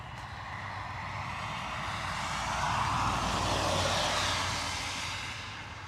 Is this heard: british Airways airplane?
yes